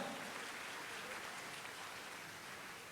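Audience applause in a university hall at Universiti Malaya, a steady, dense wash of clapping throughout, fairly faint and distant, with no clear voices over it.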